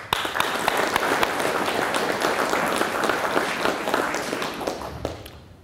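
Audience applause for field training officers at a sheriff's academy cadet graduation: a steady, dense burst of clapping from many hands that fades out over the last second.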